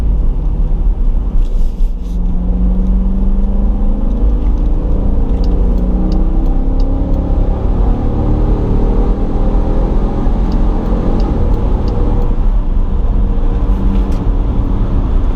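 Steady engine and road rumble inside a 2020 Dodge Durango R/T Blacktop driven in sport mode, a continuous loud low drone with slight rises in revs and no talk.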